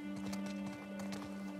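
Horse hooves clip-clop in rapid rhythmic strikes in The Last of Us Part II, set against a steady tonal hum of game ambience and music, with no speech.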